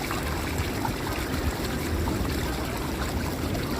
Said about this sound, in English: I also have these water sounds on my channel to help promote relaxation.